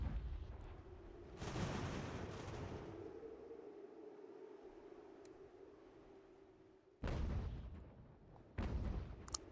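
Cannon artillery fire in the video game Ultimate General: American Revolution booms out in heavy bursts, one long rumbling volley followed by two more sharp blasts, fairly distant and with no talk over it.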